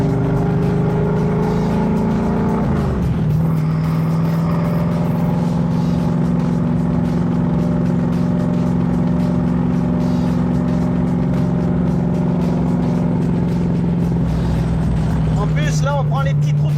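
A car engine hums steadily while driving tight, winding country lanes, the drone shifting in pitch around a bend and continuing loud and close throughout.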